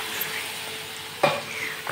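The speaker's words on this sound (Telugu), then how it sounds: "ఇక్కడ పప్పు వేసేసుకుంటున్నాను." Cooked dal for ridge gourd dal curry drops into a hot tempering in a pan, giving a sudden sizzling burst over a steady low fry with light stirring scrapes.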